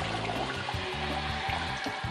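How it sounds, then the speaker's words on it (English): A household toilet flushes with a steady, loud rush of water, continuous gurgling and churning throughout with no talk over it. "Now I'm going to flush the loo."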